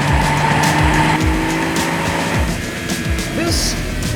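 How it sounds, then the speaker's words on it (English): BMW Z4M with its S54 engine driven hard, a loud continuous engine wail with rising and falling revs and gear changes, tire squeal mixed in. "Up front, that S54 is such a wailing weapon."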